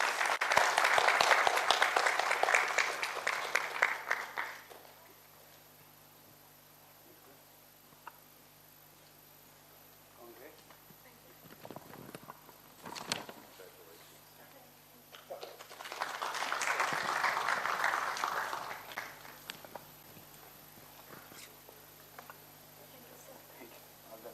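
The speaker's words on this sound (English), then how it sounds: "May we have a good round of applause" An audience at an editors' workshop award ceremony claps in two bursts, a loud round at the start and another later on, with a quieter stretch between them.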